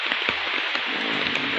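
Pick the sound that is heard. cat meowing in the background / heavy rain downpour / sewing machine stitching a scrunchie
heavy rain downpour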